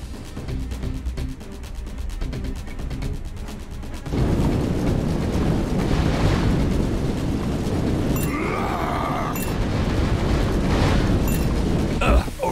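A flamethrower roars steadily in 3 out of 10, loud and continuous from about four seconds onward, setting things ablaze with crackling bursts over it and voices speaking.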